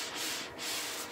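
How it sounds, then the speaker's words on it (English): Tissue wipes sanding sealer off a turned wooden fruit on a lathe, giving a steady, close rubbing and scraping hiss with slight swells, alone with no talking. "So all I'm going to do is wipe it off, take it off, and put it in a box"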